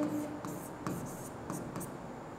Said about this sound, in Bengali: প্রথমে আমরা এখানে লিখব ইয়ার কোড